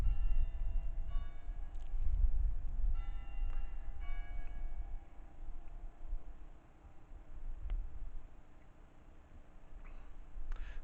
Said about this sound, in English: But here we are, bells.